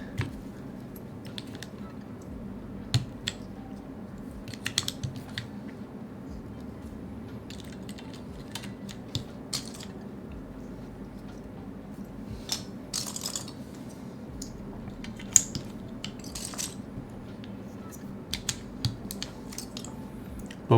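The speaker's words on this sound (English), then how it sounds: "Searching through keycaps." Keycaps being sorted through during a DK1-TKL keyboard build, giving scattered light plastic clicks and clatters, some in quick clusters, over a steady low background hum. Faint voices surface now and then.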